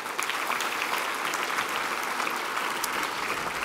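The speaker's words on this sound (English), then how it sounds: "I'd give them a round of applause right now" A conference audience gives a steady round of applause to the Movember Foundation for its team science research support, many hands clapping evenly throughout.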